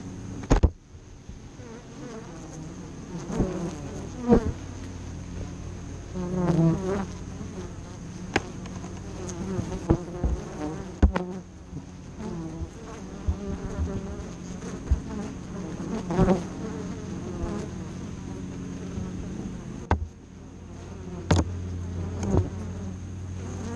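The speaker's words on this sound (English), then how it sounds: "Looks like we got bees attacking cameras." Constant buzzing of many bees swarming around a hive close by, a dense droning hum with occasional louder passes and knocks as bees fly into the camera.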